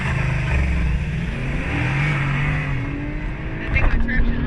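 An Infiniti Q50 with the VR30 3.0-litre twin-turbo V6 accelerates hard from a race start, its engine droning and climbing through the revs from inside the cabin, with people talking over it.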